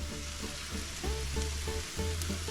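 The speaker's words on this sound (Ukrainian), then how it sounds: "Тим временем у нас все шкварчить, все красиво виглядить." Chicken sizzles steadily in a frying pan, close and continuous, with a crackling hiss and some faint stirring.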